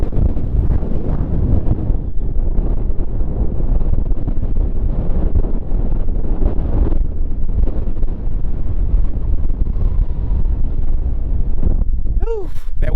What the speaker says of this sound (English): Whew, that wind is something else today.